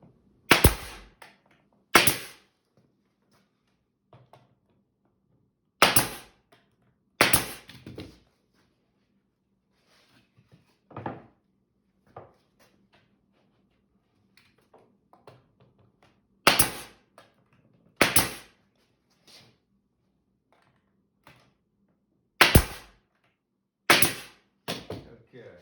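Pneumatic nail gun tacking cabinet parts together in a workshop, sharp loud snapping shots fired in quick pairs and clusters with quiet pauses and faint handling noises between.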